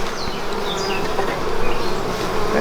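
Honey bees buzz loudly and steadily close by while a hive is opened for an inspection and brood boxes are added. A dense, continuous drone holds throughout with no talking.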